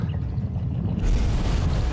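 A video game explosion from The Plucky Squire rumbles as a deep, sustained boom that swells louder halfway through into a dense roar, with no voices.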